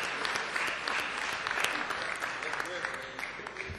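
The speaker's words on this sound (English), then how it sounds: "Let's give him a round of applause." Applause in the Mississippi State Senate chamber, brisk clapping from a group of people at a moderate level throughout, with some talk mixed in underneath.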